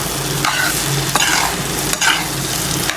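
Leftover rice scraped and stirred through egg fried rice in a hot pan, with steady sizzling underneath and several distinct spatula strokes against the metal, close and fairly loud, no talking.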